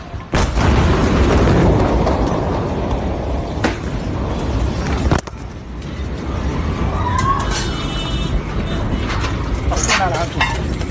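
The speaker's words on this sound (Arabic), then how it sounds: "ان شاء الله ما يكون انفجار قوي هيدا" A loud, deep boom from the Beirut explosion fills the opening seconds, followed by a sustained low roar and a sharp second thud, with alarmed voices and faint ringing tones rising later.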